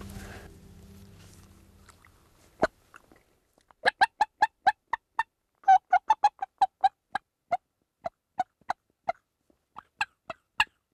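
Wild turkey toms and hens gobble and cluck across an open field, a steady series of sharp, distinct calls spaced out over several seconds, fairly distant.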